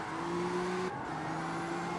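Tokyo Drift Mustang sliding sideways in CarX Street, a steady droning engine note held at high revs, briefly dipping as the gear changes, then continuing with a tire-scrub hiss underneath.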